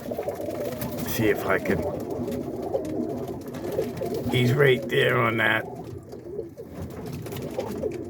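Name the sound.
pigeons cooing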